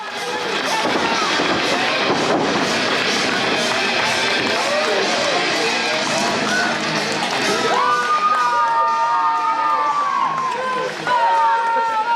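Wrestling arena crowd at a championship event cheering and shouting loudly and continuously, with whistles and rising yells throughout.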